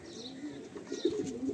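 A Madrasi pigeon of the fulsira type coos in low, rolling phrases close to the microphone, swelling louder toward the end, with a faint chirp and light rustling.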